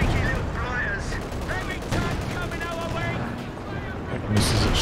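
Gunfire from a Company of Heroes 2 2v2 battle, a dense spread of rattling shots and booms running throughout, with a louder burst near the end and voices talking over the mix.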